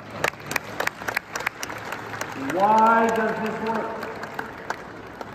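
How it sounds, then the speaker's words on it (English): Scattered audience clapping at a horse-training demonstration, irregular claps from a crowd heard around someone speaking mid-clip. "Nice applause"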